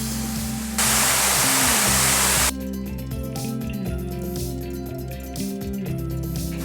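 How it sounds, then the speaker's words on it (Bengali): Water roars steadily down the first stage of a waterfall in Purulia, a loud broadband rush heard up close, alone with no talk over it. "এই হচ্ছে প্রথম স্টেজের ঝর্ণাটা"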